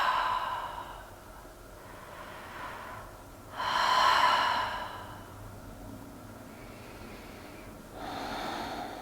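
A person exhales into a seated yoga twist, producing two soft, airy breath sounds several seconds apart, close and alone over a quiet room.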